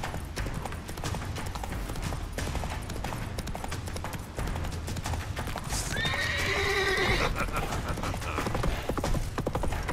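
Geralt's horse Roach in the video game The Witcher 3, hooves clip-clopping at a gallop throughout with a loud neigh partway through, amid game background noise.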